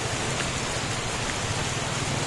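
Steady, dense rain pours down continuously with an even hiss throughout, heard close and fairly loud with no voices over it.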